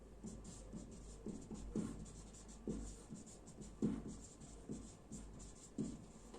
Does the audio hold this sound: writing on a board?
yes